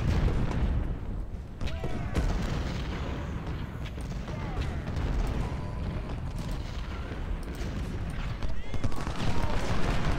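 Continuous battlefield din from Ultimate General: Civil War at the Mule Shoe, Spotsylvania: artillery booms and rifle fire rolling together in a dense, unbroken roar, with scattered sharper reports throughout.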